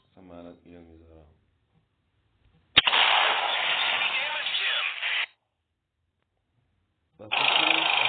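Tank cannon shots in a mobile tank video game: a sharp blast followed by a long roaring rumble, then another burst starting after a pause, with a voice talking briefly at the start.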